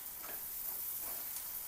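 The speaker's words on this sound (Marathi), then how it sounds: "पाट्यावर वाटलेला मसाला परतून घ्यायचा, कढीपत्ता, 1 चम्मच काळा मसाला, 1 चम्मच कांदा लसूण मसाला परतून घ्यायचं" Stone-ground masala with curry leaves frying in a pan for a spicy katachi amti: a soft, steady sizzle with faint stirring, quiet and close, lasting under two seconds with no voices.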